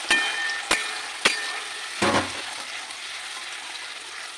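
A spice paste of ginger, onion, garlic, tomato and green chilli fries in oil with a steady sizzle, broken by a few sharp taps and a scrape of a stirring spoon.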